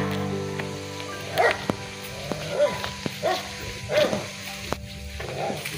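Several dogs from a house along a road bark and yip in short bursts while following a walker, with heavy rain and wind hissing steadily underneath and a voice speaking briefly between barks.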